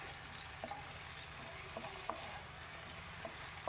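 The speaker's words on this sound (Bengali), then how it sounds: "এরপর এখানে ভেজে রাখা টমেটোটাও অ্যাড করে দিচ্ছি দিয়ে ভালো করে আবার একটু নাড়ি চাটিয়ে নিচ্ছি" Fried tomato stirred into a pan of small-fish curry made with raw tomato and chara pona fish, giving a faint, steady sizzle with scattered light spoon scrapes and taps against the pan.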